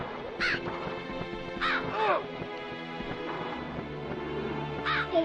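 Crow cawing in a Halloween-themed video game: a few loud, harsh caws spaced a second or more apart, close by, over a steady bed of game music.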